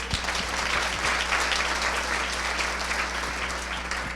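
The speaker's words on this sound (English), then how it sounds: "And so a round of applause for them." Steady, dense audience applause at a Power of the Purse program fills the whole stretch at an even, loud level, with no voices on top.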